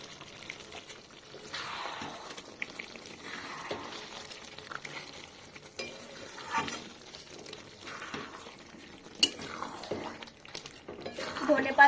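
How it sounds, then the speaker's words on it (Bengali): A spoon stirs garam masala powder and chopped coriander into chicken kosha in a pan, making repeated scraping, wet strokes in an uneven rhythm over a soft sizzle, close by. "আর গরম মশলার গুঁড়োটা ভালো করে মিশিয়ে নিলাম"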